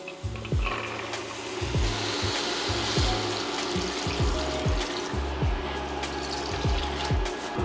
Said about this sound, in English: Now we're gonna add our beans, and then we're gonna add our water.